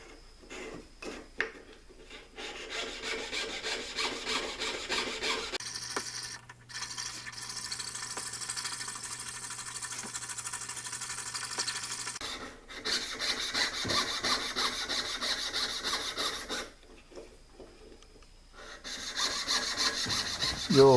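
A hand saw cuts through wood in steady rasping strokes, close and fairly quiet, pausing briefly between bursts of sawing.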